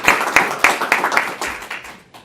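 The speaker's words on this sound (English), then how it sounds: "Can the rest of us just go ahead and applaud these guests and welcome them to this evening?" A small audience at an open house event claps to welcome guests, producing close, uneven, scattered applause that fades toward the end.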